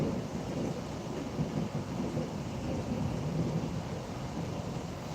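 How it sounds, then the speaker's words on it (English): Thunder rolls through a thunderstorm, a low, rumbling swell over a steady wash of rain, heard alone without voices. "Where's the thunder?"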